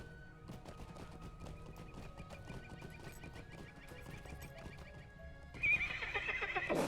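A horse in The Lord of the Rings Online whinnies and clip-clops at a steady trot, hooves thudding rhythmically throughout, with a louder burst of game sound near the end.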